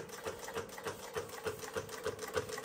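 A Jack double needle heavy duty sewing machine stitches at a long 7 mm stitch length and slow speed, making a quiet, regular rhythmic chatter of needle strokes at close range with no talking.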